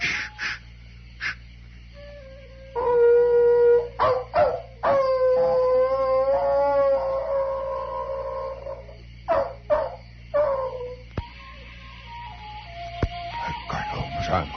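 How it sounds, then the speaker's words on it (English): Several hounds howl in a radio drama, long wavering cries rising and overlapping in bursts close by, with short yips between, over a steady low hum and no talk. "My God, hounds, you hear those hounds?"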